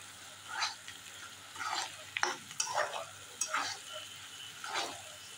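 Bharangi leaves being stirred in a kadhai, with sizzling and short scraping bursts of a spoon against the pan recurring about once a second, close and moderately loud.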